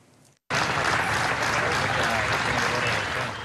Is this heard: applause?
yes